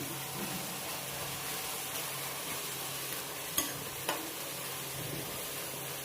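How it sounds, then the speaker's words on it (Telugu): Onions frying in a pan for a cauliflower curry, a steady close sizzle hissing throughout with two brief clinks of a utensil against the pan. "బాగా వేయించుకోవాలి. ఆనియన్స్ పచ్చిగా ఉంటే బాగోదు."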